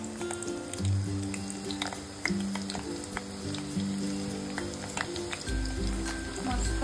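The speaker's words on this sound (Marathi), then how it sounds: "आपण ना चपातीचे तुकडे आता या तेलामध्ये तळून घ्यायचे" Pieces of chapati deep fry in hot oil in a kadhai over a medium-low flame, giving a steady close sizzle with scattered crackles and pops, and a low hum beneath.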